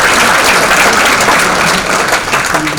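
Sustained audience applause at a community awards event honouring two women, a dense, loud wash of clapping filling the room throughout with no talk.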